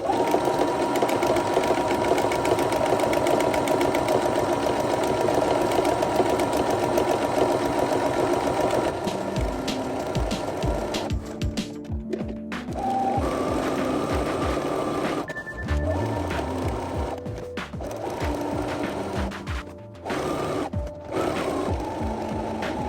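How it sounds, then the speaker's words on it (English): A sewing machine runs steadily while stay-stitching fabric for a tiered skirt, a continuous mechanical whir with rapid needle rhythm, then stopping and restarting in short bursts with brief pauses between runs. "I'm just going to use my sewing machine to do that."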